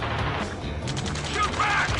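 Gunfire in the video game Ace Combat 7, a dense rattle of rapid shots in quick bursts mixed with mechanical clatter, with shouted voices partly layered over it.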